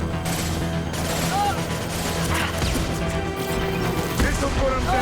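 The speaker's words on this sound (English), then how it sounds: "those things were exploding when they died" Creatures bursting apart as they die during a Mass Effect firefight: repeated loud crashing blasts and gunfire-like bursts pile up over a dense, continuous battle din, with indistinct voices mixed underneath.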